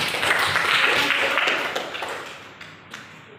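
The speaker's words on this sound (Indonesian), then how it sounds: "tepukan lagi Putri" A small group claps for a student presenter during a school coaching session, a short burst of applause that fades out quickly, with faint talk nearby.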